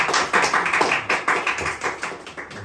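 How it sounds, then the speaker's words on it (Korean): A church group gives warm applause during a group reading of The Pilgrim's Progress: dense, continuous clapping from many hands, loud and close, with no speech over it. "오늘 처음 하셔서 박수 격려가 크네요."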